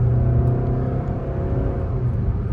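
SEAT Tarraco SUV accelerating at full throttle, heard from inside the cabin as a steady, loud engine drone with road roar, no talking.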